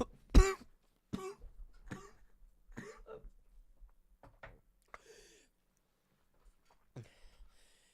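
A person coughs and clears their throat in several separate bursts, some harsh and sharp, others softer, spaced across a quiet, close room with brief silences between them.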